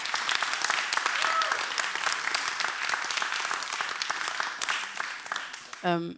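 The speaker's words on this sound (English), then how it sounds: "Can we give him a round of applause for his courage?" Audience applause at a conference breakout session, a steady dense round of clapping sustained throughout before tapering near the end, where a brief voice cuts in.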